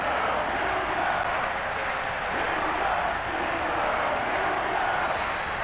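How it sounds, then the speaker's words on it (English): Sold-out stadium crowd at Heinz Field in the Madden 22 football video game, a steady dense roar of cheering that stays level throughout and never lets up. "Big Ben Roethlisberger greeted by this sold-out Heinz Field crowd."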